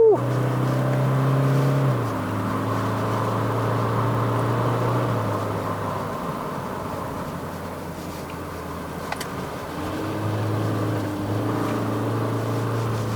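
2023 Toyota Hilux GR Sport pickup with a 2.8-litre engine, heard from inside the cabin while driving on a mountain road: a low steady engine drone with gear-change dips, fairly quiet, under occasional talk.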